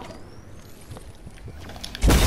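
A railgun firing in the Fortnite video game: a short stretch of quiet game ambience, then a single loud, close, heavy blast at the very end.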